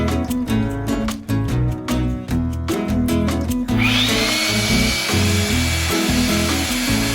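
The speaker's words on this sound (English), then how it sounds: "It seems to blow the lighter sawdust away." A Ridgid 18V jobsite blower blows sawdust from about ten feet away: first a pulsing, whirring motor tone, then a steady, loud rushing blast of air that keeps going to the end.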